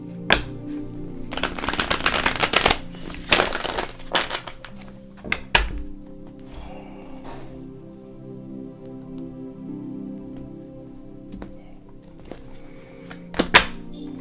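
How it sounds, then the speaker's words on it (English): A tarot deck is shuffled and cards are pulled, producing bursts of riffling and slapping card noise early on, then scattered soft thumps and taps against a quiet room, with no speech. "Okay, let's pull some tarot cards."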